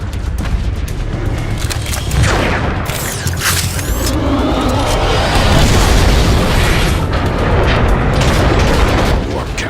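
Heavy booming cannon blasts and crackling bursts of gunfire fill the video game Transformers: Fall of Cybertron continuously, loud and dense, with a voice faintly present beneath the barrage.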